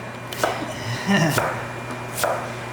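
A knife dices an onion on a cutting board, three crisp chops spaced apart, close and clear against a quiet room hum.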